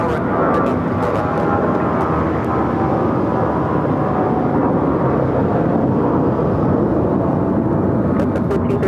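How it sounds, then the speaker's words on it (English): A Delta Airbus A319 airliner taking off from Los Angeles International Airport, a loud, steady jet engine roar and broadband rumble that holds for several seconds, close and continuous without talk. "It's a Delta A319 heading to San Antonio"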